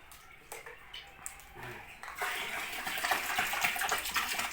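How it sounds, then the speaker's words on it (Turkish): Conditioned, rested water is poured into a home aquarium, starting with a few faint splashes and then swelling into a steady close gush of running water that continues to the end. "Suyumuzu döküyoruz."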